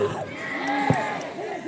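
Crowd cheering and shouting at the MVSU vs TTSU student union final match, a broad steady roar with a brief louder burst midway and faint whistle-like tones, voices blending throughout.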